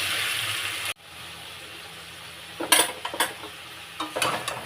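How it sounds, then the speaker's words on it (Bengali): Potatoes frying slowly in oil with salt and turmeric, a steady soft hiss broken by a few brief clinks and scrapes of stirring near the end. "এটা এবারে আস্তে আস্তে ভাজতে থাকি, লাল করে ভেজে নেব"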